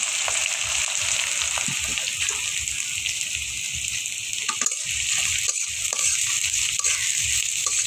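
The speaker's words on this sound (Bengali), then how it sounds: "কড়াইতে দিয়ে দিলাম পেঁয়াজ," Onions sizzle steadily in hot oil in a wok, a dense close frying hiss with occasional stirring scrapes and clicks from the utensil.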